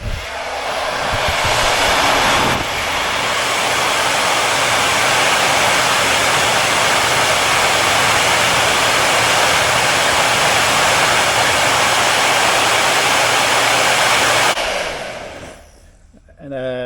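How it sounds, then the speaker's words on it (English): A household hair dryer blowing steadily on heat-shrink wire splice connectors for a sprinkler system, a loud constant whooshing roar that runs for about fifteen seconds before switching off and winding down. "I'm just gonna hit those with my wife's hair dryer to shrink them down"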